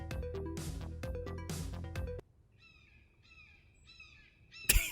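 Bird calls in a video game trailer, a series of short, crow-like caws repeating in clusters after loud music cuts out, fairly clear over a quiet background.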